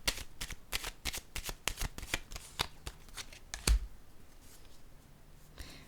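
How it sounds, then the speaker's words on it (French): Playing cards in a card reading are handled and laid down, giving a close run of crisp flicks and papery slaps that fade into a soft rustle. "Je vais déposer une carte sur le changement."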